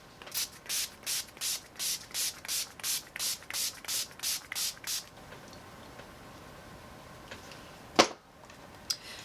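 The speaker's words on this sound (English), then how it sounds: "set my face with my Urban Decay makeup setting spray" An Urban Decay makeup setting spray hisses in a quick run of about twelve short, evenly spaced spritzes, followed by quiet and a couple of faint clicks.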